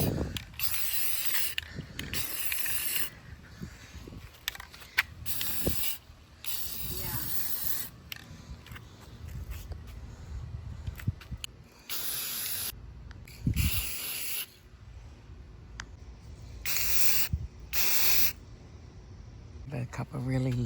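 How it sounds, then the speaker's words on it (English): Bursts of aerosol spray paint hiss in short repeated passes while coating a thrifted item, broken by quiet gaps, with a voice talking over the background in places. "Spray paint this. I'll just do a really quick coat"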